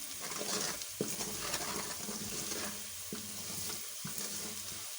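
Chaat masala being stirred into maash dal in a pan: a steady sizzle and scraping stir run throughout, with a few sharp spoon knocks against the pan near the start and toward the end.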